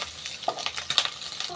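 Pork frying and browning in its own rendered fat in a pan, a soft steady sizzle with a few light scraping stirs, close and fairly quiet.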